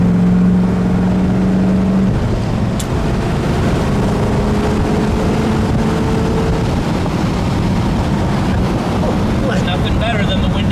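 A 1967 Pontiac GTO convertible with a 400 cubic inch V8 cruises along, its steady engine drone and road rumble mixed with heavy wind buffeting in the open cabin, no talk heard.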